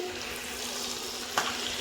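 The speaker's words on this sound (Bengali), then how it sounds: "এদিকে হচ্ছে পটল ভাজা" Pointed gourd (potol) slices fry in plenty of oil, giving a steady, faint sizzling hiss with a single quick clink near the end.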